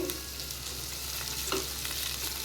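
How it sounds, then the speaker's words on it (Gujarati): Grated carrot stirred into onions frying in a pot for one-pot tomato rice gives a steady close sizzle with soft scraping strokes of the spoon throughout. "હવે આપણે આમાં ગાજર એડ કરી દઈશું. એક ગાજર લીધું છે મેં મીડિયમ સાઈઝનું. મિક્સ કરી લઈએ."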